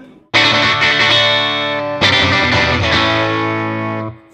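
Electric guitar with a Rickenbacker-style tone, played through an amp with distortion, chorus and effects, rings out in two loud strummed chords, each sustaining and slowly fading, with no talking.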